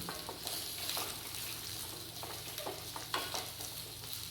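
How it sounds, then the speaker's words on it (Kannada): A large onion and cashews fry in a pan, making a steady sizzle broken by irregular stirring scrapes, heard up close at a moderate level. "ಹಾಗೂ ಒಂದು ದೊಡ್ಡ ಸೈಜ್ ಈರುಳ್ಳಿಯನ್ನು ಹಾಕಿ ಸ್ವಲ್ಪ ಗೋಡಂಬಿಯನ್ನು ಹಾಕಿ ಫ್ರೈ ಮಾಡಿಕೊಳ್ಳಿ"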